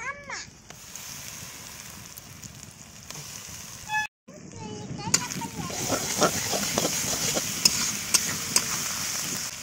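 River prawns fry in a village kitchen with ginger, garlic and chili paste, a sharp sizzle that briefly cuts out, then returns louder with crackling spatter and stirring while a voice talks over it.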